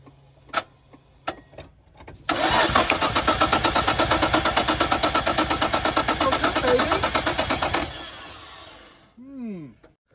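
A Nissan Skyline engine, just repaired, cranks over with a few clicks, then starts and runs loudly with a steady, rhythmic pulse for several seconds before shutting off.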